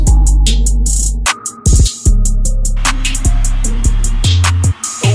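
Excerpt of a rap song, a loud beat with heavy bass and rhythmic hi-hats that drops out briefly at points, played alone without talk over it.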